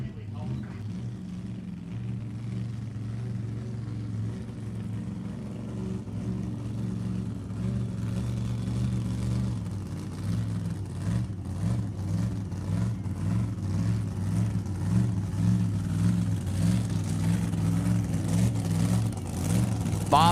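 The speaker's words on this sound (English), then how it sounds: "Left side, Doug Reed in the El Camino. 526 Chevy under the hood," At a drag strip, an El Camino drag car with a turbo-assisted 526 Chevy engine idles and revs in a loud, pulsing drone that grows stronger, while an announcer talks over a PA throughout.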